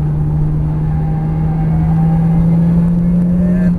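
Porsche 911 Turbo S on a race track, its engine holding a loud, steady drone that climbs gradually under throttle, heard close from inside the car without speech.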